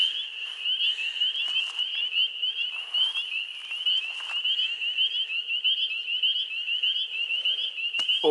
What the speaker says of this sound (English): Listen to those frogs.